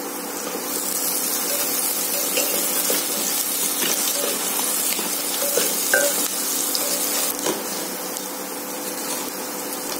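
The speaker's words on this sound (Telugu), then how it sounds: "ఆనియన్స్ ఇంకా బాగా ఫ్రై అవ్వలేదు" Thin, long-sliced onions fry in hot oil for a capsicum masala gravy, giving a continuous close sizzle with soft bubbling and occasional light stirring clicks.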